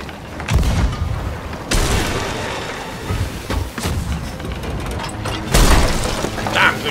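Cannon shots striking a ship in Sea of Thieves: several heavy booming impacts spaced a second or two apart, loud and close, with a crashing splintering tail after each hit.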